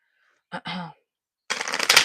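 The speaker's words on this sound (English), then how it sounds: "I'm gonna shuffle that a little better." A brief riffle of cards being shuffled close by, a quick crisp burst of flicking after a short gap and a couple of soft handling noises.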